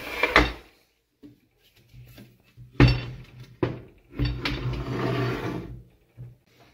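Diagraph stencil lettering machine being turned over and handled on a bench: scattered metallic clanks, knocks and rattles of varying loudness, with a longer scraping rumble near the end.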